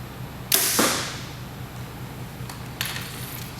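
An arrow tipped with an Iron Will vented 100 broadhead is shot from a bow and hits a target with a sharp whoosh and thud. A fainter second impact follows a couple of seconds later against quiet outdoor background.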